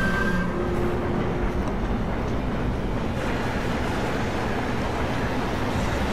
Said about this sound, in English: This is the worst train ride ever.